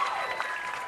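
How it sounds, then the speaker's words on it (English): A crowd in the stands at a softball grand final, Walkerville against Seacombe, cheers and claps in a steady, bright wash of applause across the whole moment, with no clear voices standing out. "Big cheer, Georgia Mason"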